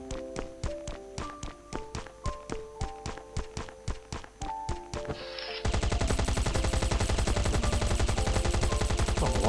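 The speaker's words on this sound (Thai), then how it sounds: "อันนี้ผมยิงกับ M4 ทั่วไปเองแหละ" An M4 rifle fires in the survival game Last Island of Survival: about fifteen evenly spaced, sharp shots ring out near and loud, then a dense continuous rattle of rapid fire takes over.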